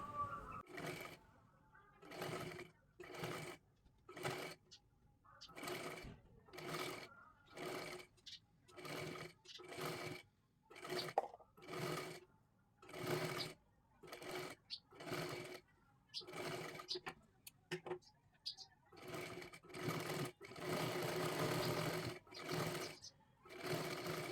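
A sewing machine stitches lace in a round shape onto a blouse-piece cloth for a puja plate cover, running in steady rhythmic bursts with short pauses between them, close and fairly loud for about twenty-four seconds.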